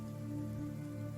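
Steady rain falls as continuous ambience under a tabletop RPG podcast, a soft, even patter with a low hum beneath it and no voices.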